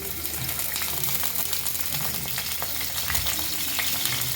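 Garlic frying in oil for a fish egg dish, a steady close sizzle with crackling pops and faint stirring scrapes, no voices.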